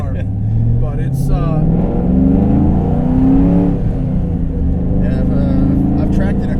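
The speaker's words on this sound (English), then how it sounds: "I hope everyone can hear you because this is a very loud car" Loud modified 2002 Camaro SS V8 engine rumbling and revving while driving, the pitch rising and falling with throttle, with people talking over it inside the car.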